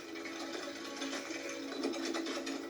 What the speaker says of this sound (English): Then whisk the yolks and sugar together.